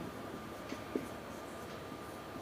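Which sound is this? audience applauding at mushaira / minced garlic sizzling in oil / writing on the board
writing on the board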